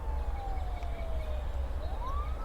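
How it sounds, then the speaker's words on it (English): In a video game, a siren wails in gliding tones that fall slowly and then rise again over a low background rumble, sounding moderately faint with no talking. "I can hear a siren."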